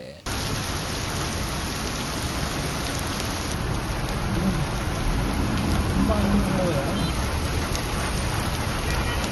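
Steady, dense rain pours down without a break, a continuous broadband hiss that swells slightly partway through.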